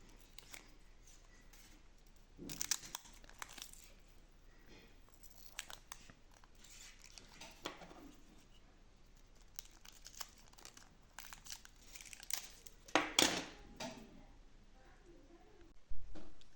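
Crinkly crackling and rustling of adhesive tape being pulled and wound around a transformer winding, in irregular bursts with louder tearing strips, close up, no talking.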